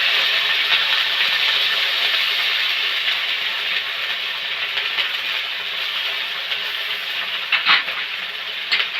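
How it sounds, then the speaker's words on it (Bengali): Ginger, cumin, chilli and garlic pastes frying in a pan for a cabbage and egg curry, giving a steady, loud broadband hiss that runs unbroken throughout, with a couple of brief clatters near the end. "আর রসুন বাটা দিয়ে আমি ভালোভাবে কষিয়ে দিই"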